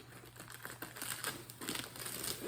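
Taped plastic bags crinkle and rustle as they are pulled out of an orchid shipping box, a close, quiet run of irregular crackling handling noises with no talk.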